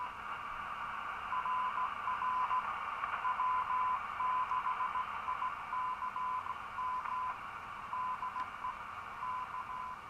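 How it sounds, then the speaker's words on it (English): A Simpleceiver Plus superheterodyne radio receiver puts out steady static hiss with a faint intermittent tone while a small 10K RF-gain pot in the RF amplifier stage is turned. The level shifts only slightly, and the sound stays constant and fairly quiet throughout. "you can hear the gain change as I change the little 10K pot"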